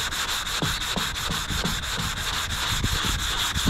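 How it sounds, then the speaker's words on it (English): Body filler on a 1979 Chevy Malibu being block sanded with 180-grit sandpaper, a steady run of close, rhythmic rasping back-and-forth strokes with no talking. "You can take your blow hose and blow it off because your sandpaper might start clogging up with this 180."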